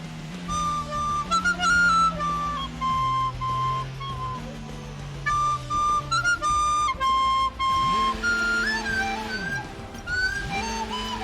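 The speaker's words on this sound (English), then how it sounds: "all I can hear is the teapot whistle" A teapot-like whistle sounds in the F1 22 racing game: thin high tones that glide up and down in steady repeating phrases over a continuous lower humming layer, moderately loud throughout.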